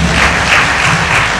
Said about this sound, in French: On peut applaudir pour ce couple.